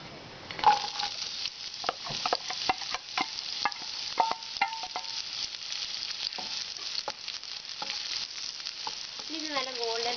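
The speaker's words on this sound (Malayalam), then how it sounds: "ഇത് നല്ല ഗോൾഡൻ ബ്രൗൺ ആവുന്ന വരെ വറുത്തെടുക്കാം." Chopped onions fry in hot ghee in a pan, giving a steady crackling sizzle with sharp pops and occasional scrapes of stirring, close up and with no one talking.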